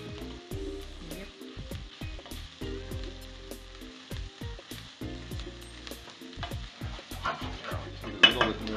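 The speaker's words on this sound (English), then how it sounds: "Give our onions a bit of a stir." Onions fry in a pan with a soft, steady sizzle while a utensil stirs them, producing repeated close clinks and scrapes against the metal, with a brief louder knock near the end.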